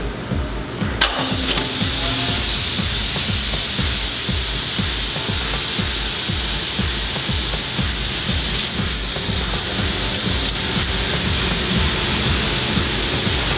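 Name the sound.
kitchen exhaust hood fan running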